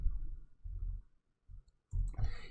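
A few quiet computer mouse clicks, sharp and close, separated by short pauses in an otherwise near-silent room.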